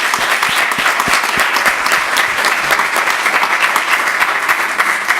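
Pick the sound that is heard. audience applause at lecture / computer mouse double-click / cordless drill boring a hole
audience applause at lecture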